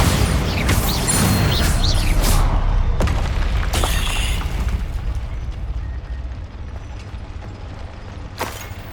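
Bombarda explosion spell in Hogwarts Legacy, a loud burst and rumbling boom at the start with crackling debris that slowly fades, then a short sharp hit near the end.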